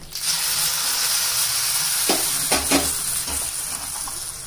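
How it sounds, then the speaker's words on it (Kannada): Mustard seeds crackle and sizzle in hot oil for a buttermilk-curry tempering, giving a close, steady fry with a few sharp pops and stirring noises. "ಒಗ್ಗರಣೆ ಆಗಿದೆ ಸಾಸಿವೆ ಎಲ್ಲ ಪಟಪಟ ಅಂತ ಹಾಕ್ತಾ ಇದೆ"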